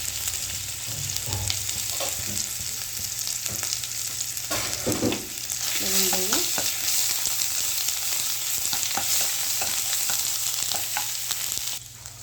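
Ginger and garlic frying in a pan for mushroom biryani, a continuous loud sizzle with scattered clicks and scrapes of stirring, and a brief metallic clink midway, no voices.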